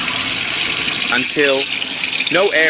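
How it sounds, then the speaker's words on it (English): Water gushes steadily as it fills one channel of a motorhome tank system, a constant rushing flow heard close by while someone speaks over it. "is filling up. And we are only going to fill one channel at a time. First the cold water, then the hot water."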